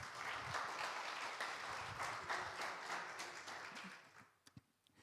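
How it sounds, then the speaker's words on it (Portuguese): Congregation applauding during a church gathering, a steady, fairly quiet patter of many hands clapping that fades out near the end, leaving a few isolated claps. "Aplauda Jesus para a vida do irmão."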